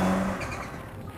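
A 600bhp X Games-winning rallycross Citroen DS3 engine revs hard and loud, a dense, roaring burst of engine noise held close throughout.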